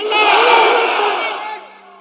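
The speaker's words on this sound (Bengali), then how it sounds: "শুরুতে শুধু বিবাহিতরা তাকবির পড়েন" A crowd of married men at a religious gathering chants takbir in unison, one loud, full-throated group shout lasting about two seconds before it fades away.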